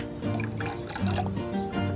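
Talisay (Indian almond) leaf extract trickles and splashes into betta fish tank water, a continuous close pouring sound.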